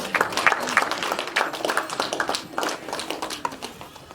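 A wedding audience claps to thank someone, an uneven burst of many hands applauding, with voices murmuring faintly beneath.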